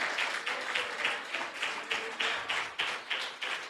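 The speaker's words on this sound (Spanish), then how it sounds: "¿Cuántos le dan un aplauso?" A church congregation claps in a fairly regular rhythm, short bursts of applause repeating about twice per second, moderately close.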